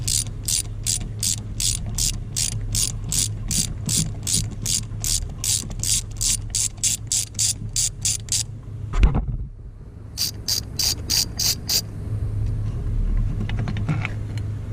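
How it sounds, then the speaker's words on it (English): A hand ratchet clicks in quick, steady bursts while backing out a lower bolt near the valve cover on a Dodge Ram 2500 with a 5.9-liter 24-valve Cummins diesel. The loud, close ratcheting pauses briefly and then resumes, with no talking. "Go ahead and take your bottom bolt towards the valve cover off."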